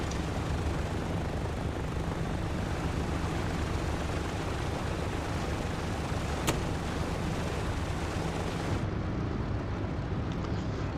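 The piston propeller engines of a DC-3 in Microsoft Flight Simulator 2024 roar steadily and loudly in a dense, unbroken drone that drops slightly in brightness near the end.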